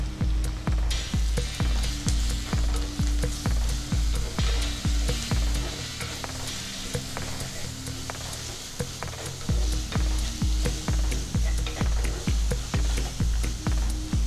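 Garlic paste, ginger paste, coriander powder and chilli powder fry in a little oil for handi chicken, sizzling loudly and close. A spoon knocks and scrapes in a steady rhythm, with a short softer stretch in the middle.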